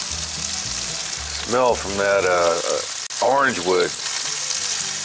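Onions sizzling around corned beef in a cast iron pan, a steady close frying hiss that runs throughout, with someone talking over it briefly.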